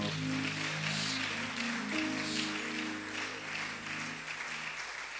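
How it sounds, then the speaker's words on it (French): A church congregation applauding and cheering loudly during a worship service, a dense, steady roar of clapping with voices mixed in that holds for several seconds and then starts to taper off. "Ensemble, nous disons Amen en acclamant très fort."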